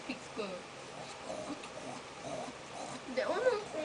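A person's voice imitates a pig squeal in short, quiet, playful bursts with some breathy noises, rising in pitch and intensity toward the end, in an indoor setting.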